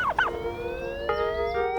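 Turkeys on a farm give a quick warbling gobble up front, then sustained rising tonal calls, close and clear.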